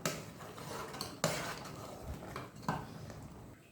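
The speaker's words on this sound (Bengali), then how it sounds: "কিছুক্ষণ পর পর এসে এভাবে নেড়ে দিতে হবে। ধ্যান রাখতে হবে যাতে নিচে লেগে না যায়।" A spoon scraping and knocking around a pot of milk vermicelli (dudh semai) as it is stirred, with a few sharper clinks standing out over a soft steady cooking background.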